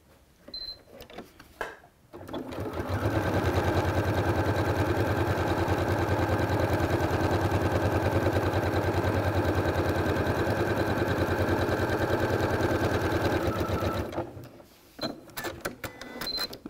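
A sewing machine quilts straight lines across a quilt with a walking foot fitted, running steadily and loudly for about twelve seconds with a fast even stitching rattle, framed by brief quiet handling sounds before and after.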